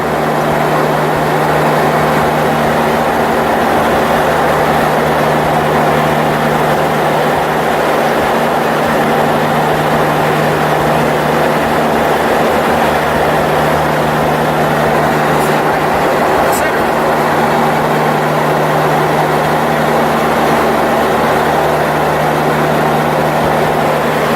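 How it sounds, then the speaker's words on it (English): A propeller airplane drones steadily in flight over the desert of Namibia, a loud, unbroken engine roar with a low hum filling the cabin, and voices talking over it. "Airplane noise, but here we are, flying over the desert."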